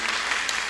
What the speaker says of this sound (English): Let's give the Lord a hand clap of praise for our junior ushers.